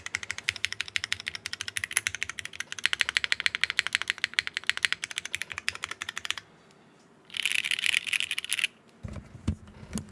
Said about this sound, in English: So these reds are tuned for extra clack and extra loud